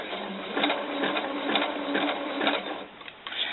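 A sewing machine stitches jersey knit fabric for doll underwear, its needle running in a steady, close mechanical chatter with a few quick surges and slowdowns, heard alone without talk.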